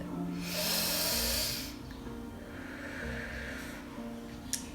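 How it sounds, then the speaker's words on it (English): A slow, deep breath drawn during a peaceful beginner meditation, a long soft airy inhale swelling then easing off, followed by a quieter second breath and a brief click near the end. "Have that deep long breath."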